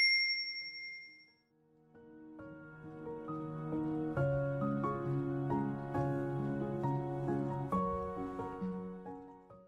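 A bright, high notification bell dings and fades over the first moment, then light melodic music with chiming notes takes over.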